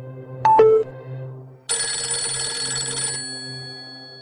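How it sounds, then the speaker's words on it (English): A Nokia E72 phone plays its text message alert: a short two-note chime, then a brighter, sustained electronic tone that rings out clearly for about a second and a half. "text message from Jason."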